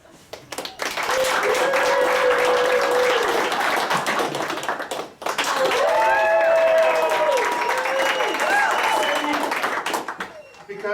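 An audience at a live comedy game show breaks into sustained applause and cheering, loud and dense, dipping briefly halfway before surging again, with voices mixed into the crowd noise.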